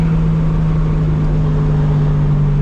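A 1000-horsepower fourth-generation Toyota Supra on a hard pull, its engine a loud, steady droning roar held evenly through the whole stretch, heard from inside the car with the wheels still slipping.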